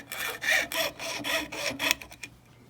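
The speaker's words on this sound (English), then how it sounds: "we're going to use our jeweler's saw. We're going to cut through the stack" A jeweler's saw cuts through a stack of silver wire jump rings. The blade rasps back and forth in about eight quick, even strokes up close, then tapers into a few lighter scrapes.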